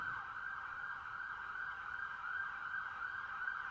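A steady, faint ambulance siren tone drones on at a distance, holding a sustained wail without other sounds.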